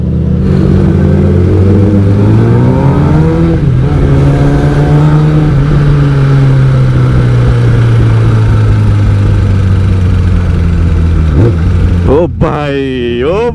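A Kawasaki ZX10R motorcycle engine and exhaust rev loudly and steadily in Thailand, rising and falling in pitch, with a sharp throttle blip near the end; people talk over the engine.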